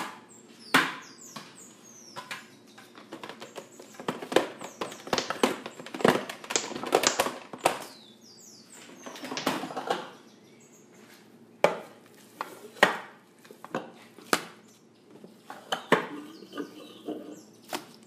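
A knife chops kebab meat in a home kitchen, striking a board in close, irregular runs of sharp taps with brief pauses between bursts.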